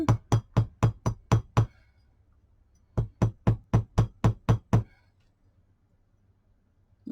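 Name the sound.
hammering paper bead earrings made from recycled Christmas cards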